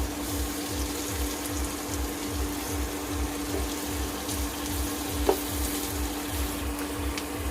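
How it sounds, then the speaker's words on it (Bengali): Raisins fry in hot oil in a home kitchen, giving a steady, soft, even sizzle with a faint low rhythmic pulse beneath and one brief click, with no talking. "দেখুন একটু ভাজা হলে কিশমিশগুলো গোল গোল হয়ে ফুলে যাবে।"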